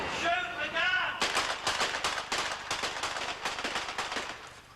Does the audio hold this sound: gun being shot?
yes